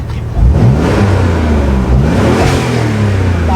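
Twin-turbo Nissan 300ZX with no exhaust fitted revs hard from idle, a loud raw engine rising in pitch, dipping and climbing again, close by and unmuffled.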